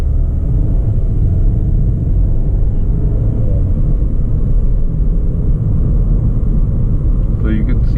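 Skoda Octavia RS 245 with a DQ381 DSG gearbox accelerating from a standstill, a loud, steady low engine drone heard from inside the cabin and running throughout, with a voice talking over it near the end.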